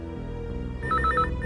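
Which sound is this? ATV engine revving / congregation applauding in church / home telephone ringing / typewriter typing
home telephone ringing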